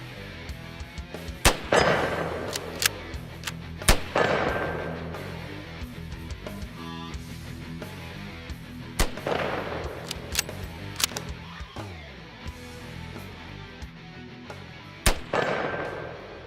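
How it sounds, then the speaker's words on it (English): Sharp, loud rifle shots from a scoped Mosin Nagant fired outdoors at targets about 100 meters away, several widely spaced cracks with reverberating tails ringing between them, no talking. "I think I'll just keep plinking with my Mosin here."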